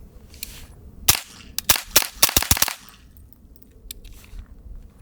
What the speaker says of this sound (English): So gonna do a couple suppressed, no hearing protection, and see how it sounds.